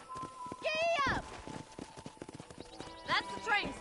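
Horse hooves clip-clopping in the video game Red Dead Redemption, a steady trotting rhythm close by, under character dialogue spoken over the hoofbeats.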